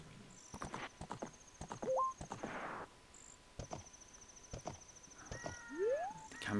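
Hooves clip-clop rhythmically as a horse gallops in the video game Zelda: Ocarina of Time, mixed with chirping game ambience, a brief whinny and short synthetic tones.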